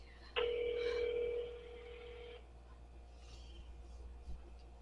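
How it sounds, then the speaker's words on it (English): A telephone ringback tone plays on a call that is on hold, one steady electronic tone lasting about two seconds, followed by a faint hum on the line. "I finally got it to ring and ring and ring."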